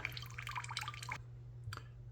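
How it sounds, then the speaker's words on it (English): Water drips from a drained water filter housing, a few faint scattered drops over a low steady hum in a quiet room, stopping partway through. "Now that we're done dripping, we're ready to go."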